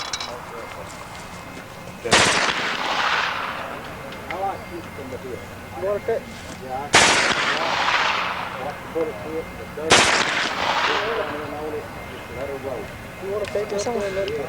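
A water-cooled Maxim machine gun fires on an outdoor range, three sharp loud reports or short bursts spaced several seconds apart, each ringing out and echoing, with people talking in between.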